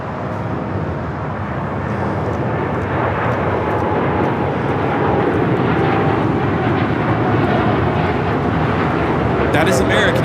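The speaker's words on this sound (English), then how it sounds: "That is American Airlines Flight 27 taking off to Tokyo Haneda on the 787-9 Dreamliner" An American Airlines Boeing 787-9 Dreamliner, Flight 27 to Tokyo Haneda, takes off at LAX with a loud, steady jet roar that holds and swells slightly throughout.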